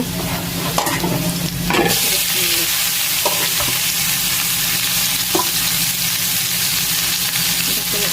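A frying dish sizzles loudly and steadily in a pan while a spatula stirs it with occasional scraping knocks, close up and without speech.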